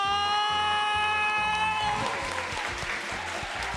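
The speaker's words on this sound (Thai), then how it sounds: "ขอเสียงปรบมือดังๆ ให้กับนันทวัฒน์จากสตรีวิทยา" Applause from the audience at a spelling bee results announcement, a broad steady wash of clapping under a voice speaking over a PA system, with some crowd noise.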